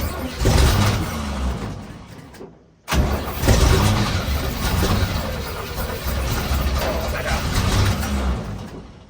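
The engine of a 1964 Chevy G10 van runs loud and rough after starting. It sputters, briefly cuts out, then catches again and keeps running in an uneven, throaty rumble.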